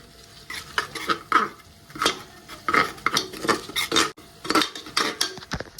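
A spoon clinks and scrapes around a metal pot as mutton paya masala is stirred in Agri-Koli style, rhythmic scraping strokes over a soft sizzle, close and fairly loud.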